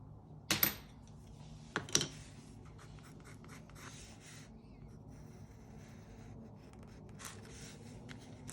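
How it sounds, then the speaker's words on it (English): A pencil being sharpened for drawing: two short scraping bursts close together near the start, then faint scratching and a light click later, quiet and close with no talking. "I'm just sharpening my pencil."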